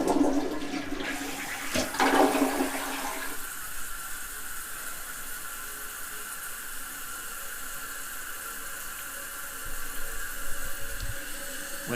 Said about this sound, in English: So let's give the flush a shot.